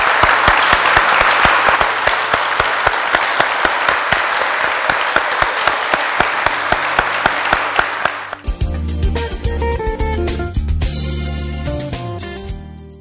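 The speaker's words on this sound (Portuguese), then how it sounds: "uma salva de palmas para o padre e as boas-vindas que estão por vir" A church audience applauds the priest at a sanctuary, dense steady clapping for about eight seconds, then fading into music.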